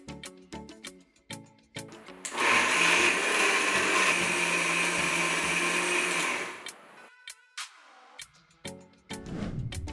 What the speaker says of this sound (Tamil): கலவை ஆறின பிறகு அதை மிக்சியில் எடுத்து